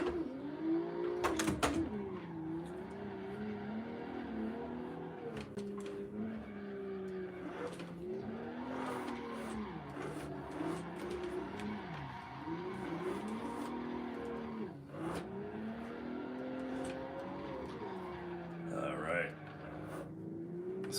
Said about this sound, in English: Once the tires warm up, this car is a lot easier to drift, especially on this inside portion.